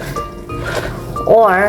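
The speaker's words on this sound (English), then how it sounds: "that's my dog barking as usual" A dog barks in the house during sauerkraut making, a short tonal yelp near the end that rises over a person's steady talking.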